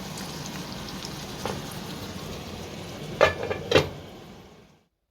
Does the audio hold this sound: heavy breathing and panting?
no